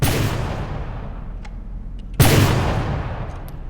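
A large gun fires in the naval combat game From the Depths: a heavy booming shot with a long rolling decay, then a second louder blast about two seconds later that trails off slowly.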